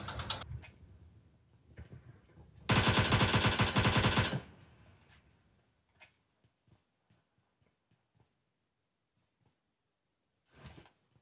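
A dense burst of rapid automatic gunfire from PUBG Mobile Lite, played on a Realme C3 phone, lasts about two seconds amid quieter clicks and taps, followed by scattered faint single ticks.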